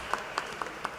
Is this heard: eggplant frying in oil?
no